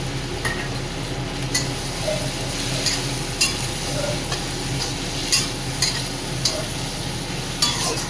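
Potatoes tossed into a pan with chilli and tomato, frying and being stirred for a meaty ghugni, a steady close sizzle broken by occasional spoon-against-pan clinks and scrapes.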